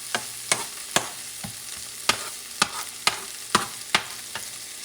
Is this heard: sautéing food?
yes